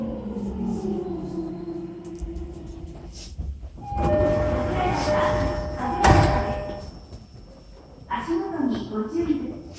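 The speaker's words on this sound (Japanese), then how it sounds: "閉まるドアにご注意ください。" On a JR East E231 series train stopped at Kagurazaka station on the Tozai Line, doors slide shut with a thump and a sharp clunk amid station chimes, while an announcement voice speaks over the rumble.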